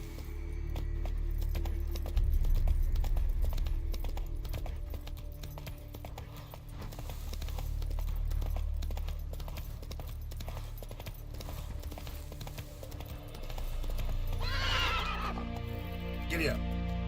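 Horse in The Witcher video game gives a loud, shrill whinny near the end, after steady clip-clop galloping beats that run throughout under faint game sounds.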